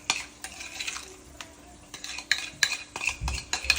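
Seasoning and mayonnaise being mixed in a bowl for fish and chips, with soft wet squelches and scattered clinks and taps, close and fairly quiet, and no talk.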